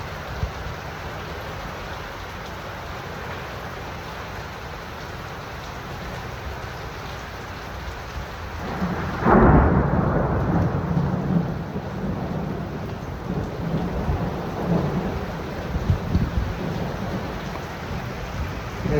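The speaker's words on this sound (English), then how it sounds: "it is dumping rain" A thunderstorm dumps heavy rain in a constant hiss, then a sharp, loud thunderclap bursts about midway and rumbles on beneath the downpour; no one speaks.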